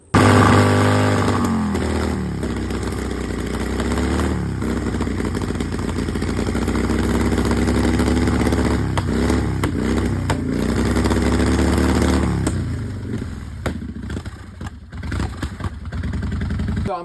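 A motorcycle engine runs loud and close with a deep, raspy exhaust note, revving up and down repeatedly before settling into a rough idle.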